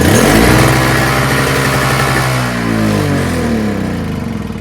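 A Toro CCR2450 single-stage snowblower with a Briggs & Stratton 524 engine runs loud and close, a steady mid-pitched drone that dips slightly midway and then holds.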